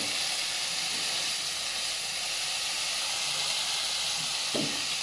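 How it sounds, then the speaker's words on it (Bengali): Masala spices fry in a pan for a curry, giving a steady, even sizzle and hiss that runs unbroken from start to finish with no voices. "একটু সময় নিয়ে কষাবা, আর আমার অনেক সময় লাগবে মশলাটা কষাতে।"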